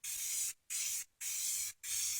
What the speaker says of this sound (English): I'm going to take some clear coat because you want the clear coat to keep your painting moist